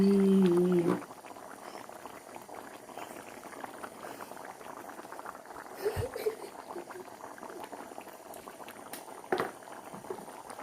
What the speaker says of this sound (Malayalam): നമ്മുടെ മീൻകറി ഇങ്ങനെ അടിപൊളിയായിട്ട് തിളച്ചുകൊണ്ടിരിക്കുകയാണ്